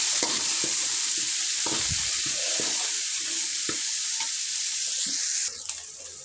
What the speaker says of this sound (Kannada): ಟೊಮೆಟೊವನ್ನು ಕೂಡ ಚೆಂದ ಫ್ರೈ ಮಾಡ್ಕೊಳ್ಬೇಕು.